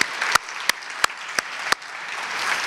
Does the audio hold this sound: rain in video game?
no